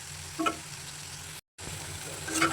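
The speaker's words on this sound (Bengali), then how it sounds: "এখন ভালোভাবে নাড়াচাড়া করে দিচ্ছি" Bitter gourd fry (karela bhaji) sizzles in a pan while being stirred, a low steady frying hiss broken by a few scraping stirs, with a short silent gap midway.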